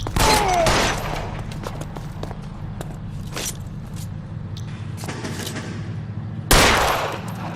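Shootout gunfire in the video game L.A. Noire: a loud fusillade of rapid shots opens, quieter scattered shots and mechanical clatter follow, and another sharp burst of fire erupts near the end, with no voices.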